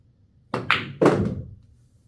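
Three sharp clacks on a pool table as the cue strikes and the balls collide in quick succession, close and clear in a quiet room, each with a short decaying ring.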